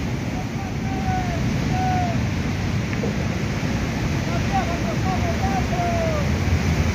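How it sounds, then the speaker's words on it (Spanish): Choppy sea seen from a small boat, a constant wash of waves and wind buffeting the microphone, with a few faint high whistling tones over the steady rumble. "La mar está picando"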